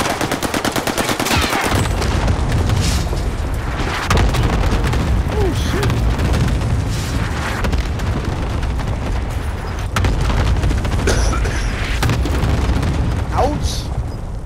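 An airstrike in Call of Duty: Modern Warfare brings heavy, booming explosions and bursts of machine-gun fire that roll continuously and loudly through a chaotic battle, with players' voices talking over the noise.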